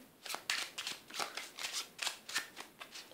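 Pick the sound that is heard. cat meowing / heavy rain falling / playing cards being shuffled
playing cards being shuffled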